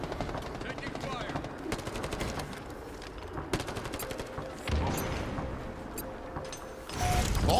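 Halo Infinite multiplayer gunfire in an Oddball match rattles in steady automatic bursts with a few sharper shots and a louder swell near the end, with game announcer voice callouts over it.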